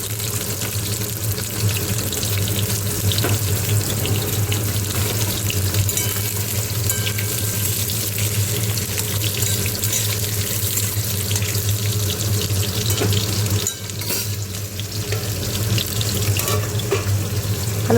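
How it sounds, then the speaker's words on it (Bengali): Potatoes fry in oil in a wok for a village-style Bengali fish curry. A loud, steady, close sizzle runs almost unbroken, with only one brief dip, and no one speaks. "এদিকে আমি কড়াতে তেল দিয়ে আলুগুলোকে ভেজে নিচ্ছি।"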